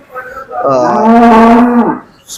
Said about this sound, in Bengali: বাচ্চা দেওয়া গাভী